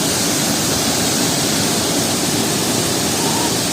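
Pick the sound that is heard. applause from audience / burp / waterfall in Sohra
waterfall in Sohra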